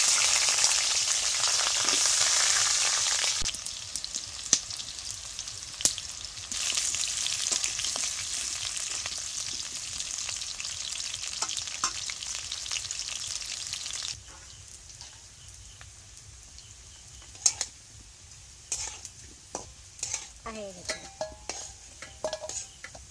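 Potatoes in oil are stirred and fried in a pan for an Indian curd chicken curry, a continuous sizzle broken by spatula scrapes and clinks that loudens, then settles quieter for the last stretch.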